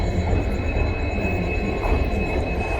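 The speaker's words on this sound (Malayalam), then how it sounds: "നമ്മുടെ യാത്ര തുടങ്ങാനുള്ള ട്രെയിൻ അതാ സ്റ്റേഷനോട് കയറി വന്നുകൊണ്ടിരിക്കുക" A Nilambur Road–Shoranur express hauled by a WDP4D diesel locomotive rolls into Angadippuram station, a steady loud rumble with a faint high whine and no speech.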